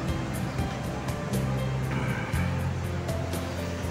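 Ocean surf at Legon Pari beach in Sawarna rolls in as a steady, dense wash of breaking waves that fills the whole stretch, with no voices.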